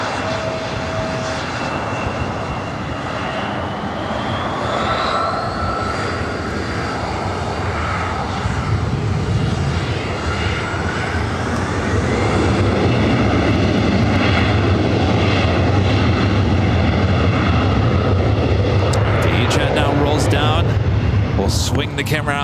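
A Korean Air Airbus A380 airliner arriving at Los Angeles International Airport gives a loud, sustained engine roar that builds and swells steadily, with chatter and commentary running over it throughout.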